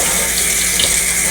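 A kitchen sink faucet runs warm water in a steady, loud, close hiss of splashing flow with no pauses.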